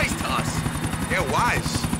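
A helicopter flies in GTA The Ballad of Gay Tony, its rotor chopping in a steady rapid pulse over a loud broad engine roar, with voices and sweeping tones layered on top.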